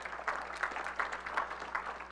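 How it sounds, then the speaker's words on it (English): Church congregation clapping hands in praise during an Easter Sunday service, a steady rhythmic patter of many hands at moderate distance, fairly faint, with no talking. "Give God a hand clap of praise"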